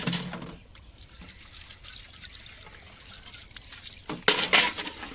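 Dishes are washed outdoors in very cold water under shady trees, giving a light trickling and splashing of water with a few louder sloshes and clinks near the end, and no talking.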